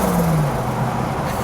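A 1987 Buick Grand National's turbocharged engine builds boost, a loud close steady drone with a rising whine over the brief moment, heard on its own without voices.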